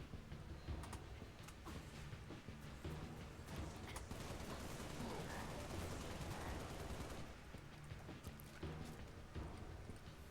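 Rifle shots ring out in a video game, dense bursts of gunfire scattered across a busy, steady game soundscape with no one talking.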